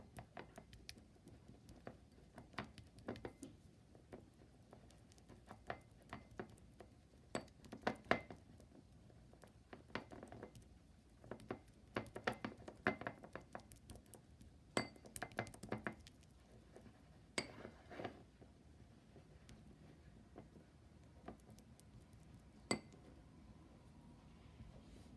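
A makeup brush mixing several foundations together, giving soft irregular taps and clicks with brief louder knocks against the container, close and quiet with no voices.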